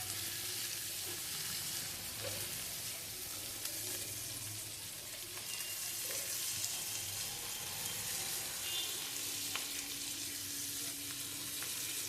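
Crushed dried fish and green chilies fry in a pan, a faint, steady sizzle with occasional quiet stirring noises, heard alone without talk.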